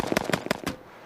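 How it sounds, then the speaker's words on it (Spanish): AK-47 rounds strike an armored vehicle in a quick burst of four or five sharp cracking impacts, evenly spaced and close, then stopping abruptly with no talk. "Un proyectil AK-47 impactará sobre el vehículo con una potencia determinada."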